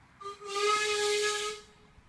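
Steam hisses loudly from the boiler of Terrier locomotive 2678 during its first steam test after overhaul, a broad sustained rush with a whistle-like tonal edge that swells in, holds for over a second, then fades.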